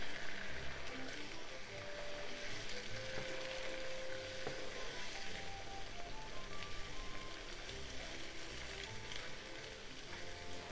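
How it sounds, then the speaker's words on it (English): Beaten eggs being mixed with big strokes in a hot frying pan for stir-fried somen noodles, giving a steady, close, even sizzle that carries on without a break and has no talk over it. "pour the eggs. Mix with big stroke."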